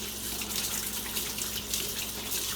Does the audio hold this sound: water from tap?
yes